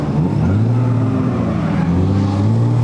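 A supercharged V8 drift car with a blower through the hood, stroked and cammed, revs loud and close in a deep, rough, sustained roar that dips and climbs again.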